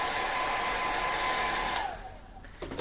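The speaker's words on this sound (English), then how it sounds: "I'm going to use my blow dryer so we don't smudge our black." A handheld blow dryer runs steadily to dry freshly painted black nail polish during nail art, a constant close whirring hiss that cuts off near the end, leaving a few faint clicks.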